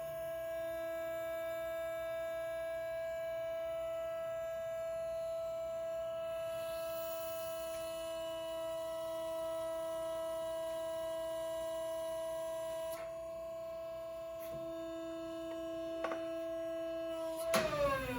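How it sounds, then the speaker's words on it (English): A shop-built horizontal ram bender bends a 1 by 2 inch hot rolled steel bar, giving a steady, close droning machine hum with a strong whine that shifts partway through, then a few metallic clanks at the end. "I'll go ahead and bend this piece of 1 by 2 hot rolled material the hard way."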